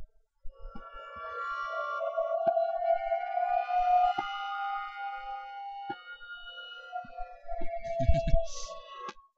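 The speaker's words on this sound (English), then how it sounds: "But yeah, you got like the air raid or tornado or whatever. It's like an alert siren." A synthesized air raid siren built in LMMS with reverb swells in a slow, wavering tone that holds and shifts in pitch over several seconds, with a reverberant tail and a few low thumps near the end.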